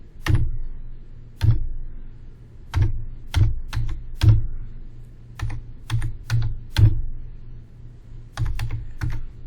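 Short bursts of keystrokes on a computer keyboard entering a terminal command during an AWS ECS and EFS lab, about fifteen crisp clicks in uneven clusters, close and clear over a quiet background hum.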